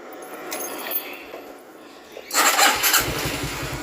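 A motorcycle fitted with a new battery that has a built-in voltmeter cranks briefly and then catches, settling into a loud, close, steady idle after a quiet lead-in.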